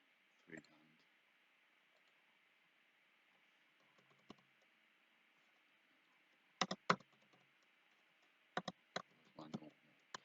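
Someone types on a computer keyboard while working in Fusion 360 CAD software, with sparse, faint clicks and a few quick clusters of keystrokes against a quiet room hiss.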